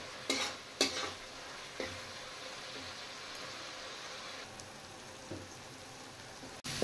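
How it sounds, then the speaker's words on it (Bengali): Spice paste for a tengra fish curry is stirred and fried in a pan, a soft continuous sizzle broken by a few sharp scraping knocks of the spoon against the metal. "এবার আমি মশলাটা ভালো করে কষিয়ে নেব।"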